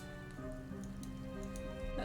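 Rain falls in the Nancy Drew: Midnight in Salem video game, a steady pattering hiss under a low droning game ambience with faint tones, with no talk.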